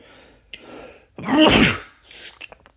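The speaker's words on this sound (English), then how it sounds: "Wow, that was a sneeze." A single loud, close sneeze with a sharp inhale before it, followed by a softer breathy exhale.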